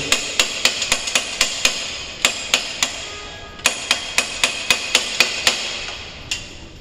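Sharp metallic hammer blows strike a socket to free a stuck part on a Suzuki GT125 motorcycle, a fast, uneven series of loud close taps with a brief pause midway and no talking.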